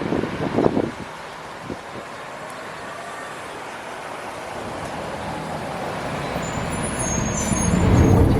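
A city bus rolls up to a stop in the Bay Area with a brief hiss of air brakes near the start, then its engine rumble builds steadily as it idles and pulls closer, with no talking.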